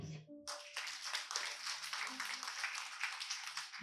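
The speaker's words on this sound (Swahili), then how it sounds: "Jipe Yesu makofi." A church congregation claps for Jesus at a Sunday service, a dense, steady patter of many hands that breaks in suddenly after a short spoken phrase and holds loud and close to the end.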